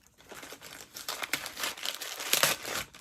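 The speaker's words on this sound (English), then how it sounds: "So I'm going to unwrap them" Wrapping is pulled and crumpled off advance reader copies of books, a close, continuous crinkling and tearing rustle that grows a little louder over a few seconds.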